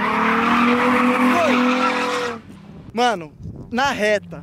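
Nissan 350Z drifting, a loud sustained tire skid with engine roar for about two seconds, then quieter moments with excited Portuguese talk over the car.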